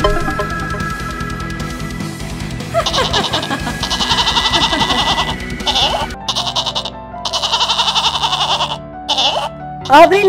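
Goats bleating repeatedly on a farm, loud and close, with overlapping cries, while a voice speaks and music plays underneath.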